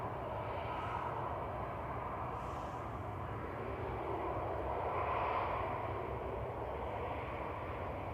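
Steady, broadband jet roar from an airliner landing at Manchester Airport, a continuous engine and rushing-air drone heard at a distance with no voices over it.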